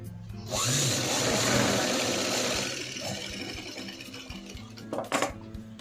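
A sewing machine stitches piping onto a boat neck blouse, a close mechanical whir running for a few seconds, then quieter handling clatter and short knocks toward the end.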